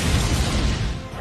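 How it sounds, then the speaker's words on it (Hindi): An explosion sound effect: a loud, dense, roaring blast with a heavy low rumble that sustains for about a second and fades slightly at the end. "खौफनाक धमाका हुआ"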